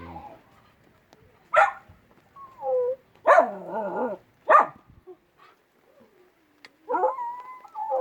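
A dog barks in a few sharp, separated bursts, some stretching into short yelping howls, with quiet gaps between them.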